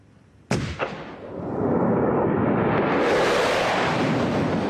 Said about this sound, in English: A gun salute